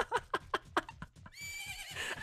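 A horse in the video game The Legend of Zelda: Majora's Mask gives a bright, drawn-out whinny near the end, preceded by a quick run of rhythmic hoof clops.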